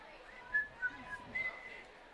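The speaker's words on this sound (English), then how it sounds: "We're whistling and talking about something" Short, sharp whistle blasts from people at a high school football game, a few quick bursts spread over two seconds above a murmuring crowd, with faint voices underneath.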